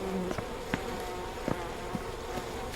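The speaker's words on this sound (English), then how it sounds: "Get off me, bees." Bees buzz in the video game We Happy Few, a steady close insect drone with a few small clicks and ticks over it and no speech.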